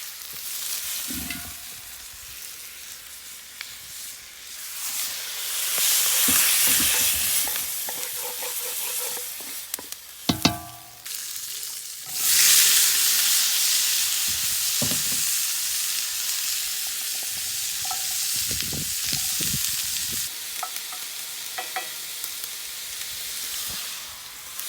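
Tomatillos frying and sizzling in a very hot cast iron pan for salsa verde, a steady loud sizzle with stirring scrapes and clatter, swelling at moments, no talking.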